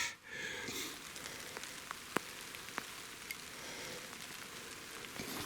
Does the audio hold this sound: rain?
yes